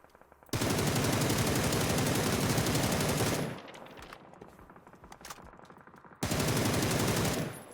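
Rapid automatic gunfire in PUBG in two long sustained bursts, loud and dense, separated by a few seconds of scattered shots and rumble.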